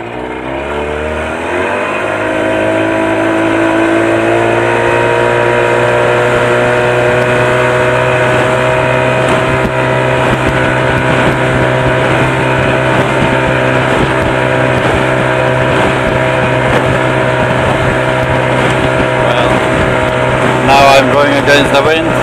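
A 1982 Evinrude 35 HP outboard motor on a 14-foot V-hull boat starts and then runs with a loud, steady droning hum, throttle rising briefly, close by with no talking.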